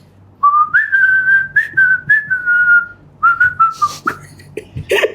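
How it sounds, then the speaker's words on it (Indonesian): Someone whistles a melodic tune in sustained, wavering notes, close and clear, with short pauses between phrases and some faint clicks near the end. "Itu siul."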